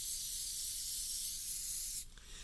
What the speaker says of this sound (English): spray a little bit on it